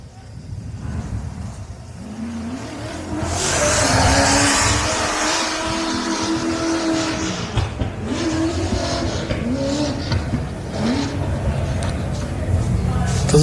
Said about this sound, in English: Does it sound like a happy gear change there from the Spicer entry?